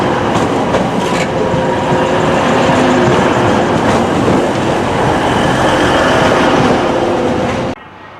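A Class 185 train bound for Manchester Airport arrives with a loud, continuous rumble and clattering wheels, some squealing brake tones mixed in, before the sound cuts off abruptly at the end.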